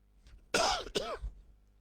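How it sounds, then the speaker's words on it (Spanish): One person gives a single harsh cough followed by a throat clearing, close and loud, over a quiet background. "perdón por la tos"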